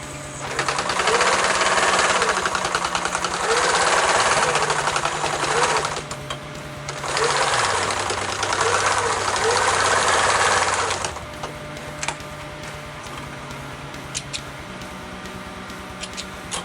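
A sewing machine stitches nylon webbing for a rollup backpack in two long bursts of steady rapid clatter, a short pause between them, then stops, leaving a quiet room with faint small clicks.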